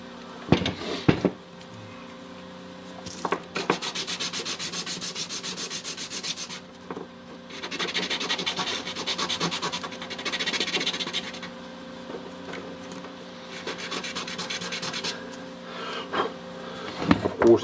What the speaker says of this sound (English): We can sand the brush, and now it's moving easily